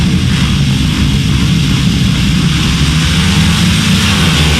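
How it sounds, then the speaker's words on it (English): Grasstrack racing motorcycles sit on the start line at a 2004 Grand Slam meeting, their engines producing a loud, continuous low roar that fills the whole stretch without a break. "we've got noisy engines on the start line"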